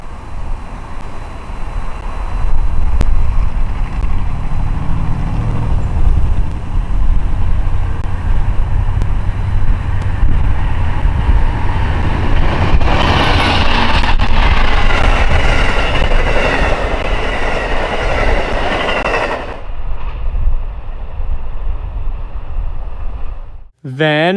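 Amtrak passenger train led by Dash 8 Phase 3 Heritage Unit locomotive 160 rolls past close by, a loud steady rumble of engine and wheels building and fading over about twenty seconds, with no talk.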